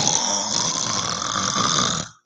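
A voice imitates snoring like a hibernating bear, giving one long, loud, rasping snore that rumbles steadily for about two seconds before cutting off.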